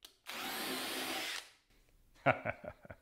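A small power drill backing out a bolt at speed 2 whirs loudly for about a second, then stops; a few quick clicks and rattles follow.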